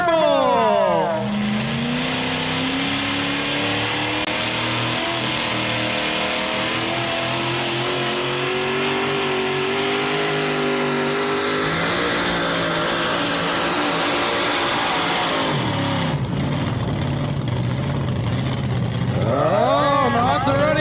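A supercharged pulling truck engine roars loud and sustained as it drags a weighted sled down the pull track, pitch climbing and shifting throughout, with an announcer talking over the din.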